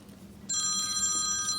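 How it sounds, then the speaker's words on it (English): A mobile phone ringtone suddenly starts in a quiet classroom, a bright, steady electronic ring that holds loud and continuous after a near-silent opening, with no talking over it. "phone keeps going off"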